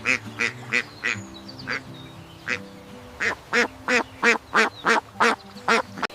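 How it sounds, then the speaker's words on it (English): A duck quacks about fifteen times in two bursts, loud, close and alone, each quack a short nasal honk repeated in a quick, even rhythm. "It's a duck."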